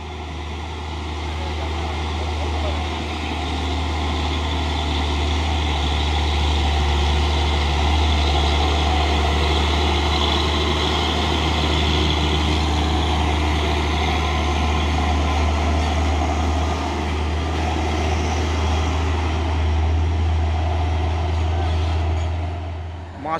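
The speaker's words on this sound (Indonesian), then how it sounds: "Masuk lagi satu unit truk trailer Fuso ini ya" A Fuso trailer truck hauling a container idles with a heavy, deep diesel rumble, steady and close for the whole stretch, swelling slightly in the middle.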